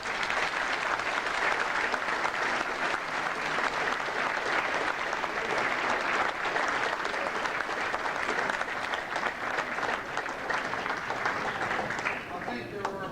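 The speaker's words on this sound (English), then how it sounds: "Let's give these squadron leaders a big round of applause." Reunion audience for the 1999 94th Bomb Group gives squadron leaders sustained, dense applause that stays loud throughout and thins near the end.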